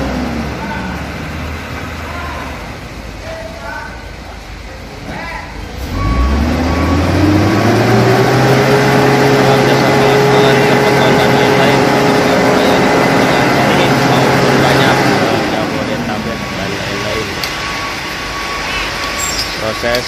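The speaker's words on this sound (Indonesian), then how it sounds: "Proses menumpahkan batu beskos dari mobil tronton" A tronton dump truck tips a load of crushed stone while its engine drones loudly and reversing beeps repeat in a steady rhythm, the engine note rising and then holding for several seconds.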